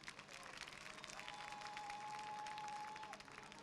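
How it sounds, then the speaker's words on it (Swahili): An audience applauds at the opening of a three-storey government primary school in Zanzibar, steady crowd clapping that carries on throughout, with a faint tone ringing through the middle of the clapping. "Tuwapigie makofi sana."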